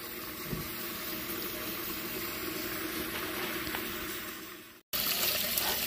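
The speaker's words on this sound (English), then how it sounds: "Let me pour this water out." Water pours out of a pan and splashes steadily for several seconds, cuts off abruptly, then resumes with a brighter hissing rush.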